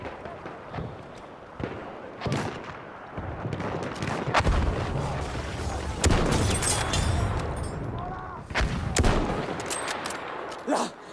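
Battlefield 1 combat with a light machine gun: rapid gunfire bursts, heavy booms and explosions crowd the battlefield, near and loud, with a player talking over the fighting.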